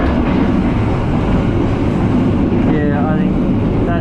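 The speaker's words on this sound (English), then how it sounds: "apart from the train going past" An economy class train on the Jakarta to Yogyakarta line rumbles past as a loud, continuous low roar of wheels and carriages, heard from on board amid rice fields, with a voice talking over it.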